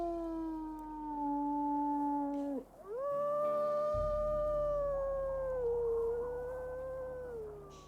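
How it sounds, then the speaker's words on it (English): Wolves howl in the WolfQuest video game, a long sustained howl that dips, then rises into overlapping howls from the pack, near and loud, with a low droning tone underneath. "let's do a little bit of howling."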